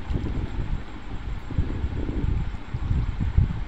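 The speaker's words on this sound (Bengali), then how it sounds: "প্রচুর হাওয়া চলছে ফ্রেন্ড" Strong wind by a river batters the microphone in a steady, heavy low rumble with gusty fluctuations throughout, loud and close. No voices.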